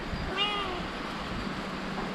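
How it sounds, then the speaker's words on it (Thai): A cat meows a few times close by at a homestay, short tonal calls near the start over a steady background hum, then quiet. "แมวอย่ากายกรรมให้มันมากนักนะ"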